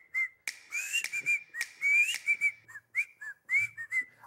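Bright, melodic whistling from pursed lips in a pop song, a sequence of short gliding notes and held tones in a cheerful rhythm over a soft backing track, with no voices.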